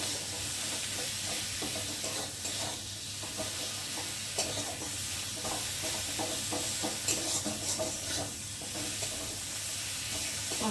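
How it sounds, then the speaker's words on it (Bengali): Spice masala for a bhetki fish curry stir-fries in a pan, a steady loud sizzle with repeated scraping strokes of a spoon running throughout, close up and without talk. "চলো আমি এখন মশলাটা ভালো করে কষিয়ে নিই।"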